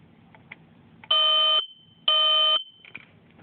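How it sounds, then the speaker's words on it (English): A Kidde Nighthawk model 0916 smoke detector alarm sounding two loud, harsh electronic beeps of about half a second each, one second apart, close by over faint background noise. "today we're going to be testing out our collection of smoke detectors, starting with a Kitty Nighthawk model"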